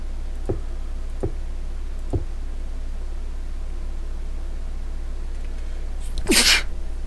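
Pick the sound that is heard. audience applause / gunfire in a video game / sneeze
sneeze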